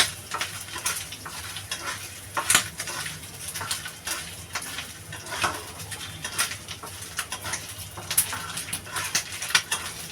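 Chopped coconut frying and browning in a pan gives a continuous close sizzle with frequent stirring scrapes, and faint birdsong comes from the background.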